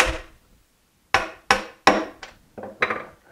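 A chisel struck with a mallet to split wood at a dovetail joint: one sharp knock, a pause, then five more crisp, close wooden whacks in quick uneven succession.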